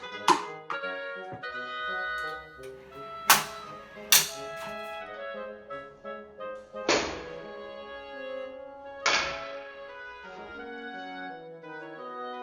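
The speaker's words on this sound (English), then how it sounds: "somewhere along the way, it shoots up the ball, will it come back to the ballistic device?" A PASCO ballistic cart rolling along a track in a physics lab, launching a ball upward and catching it again, with sharp mechanical thunks and taps ringing out over a clear, sustained tonal hum.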